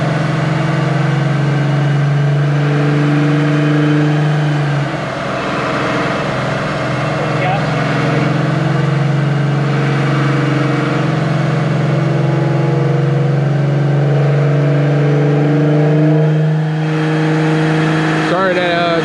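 Infiniti Q50 engine running on a dyno, a loud, steady drone holding and shifting pitch as the throttle is eased on and off, close and continuous, with voices talking underneath.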